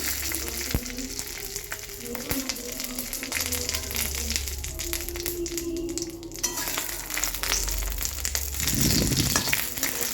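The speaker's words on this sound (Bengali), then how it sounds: "তেলের মধ্যে ভালো করে ভেজে নিচ্ছি" A semolina snack fries in hot oil, giving a steady close sizzle that runs the whole time with some stirring and scraping, no voices.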